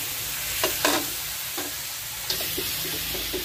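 Pork for adobo sautéing in a pan at an outdoor backyard cook, with a steady sizzle and several sharp scraping stirs of the spatula; no voices.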